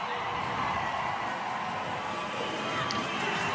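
A crowd cheers at a strength competition as a lifter completes a lift, a dense, continuous roar of voices that holds steady throughout, heard from within the arena.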